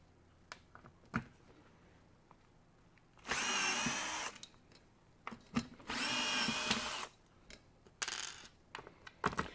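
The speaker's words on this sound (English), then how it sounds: "is I'm going to undo those 4 screws." A power drill backing out four screws, with short loud whirring bursts separated by pauses, clicks and small tool clatter nearby, no talking.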